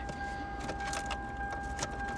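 Car keys jangle as a key is tried in a vehicle at a Copart salvage auction yard, with a few light, scattered metallic jingles over a steady low background hum.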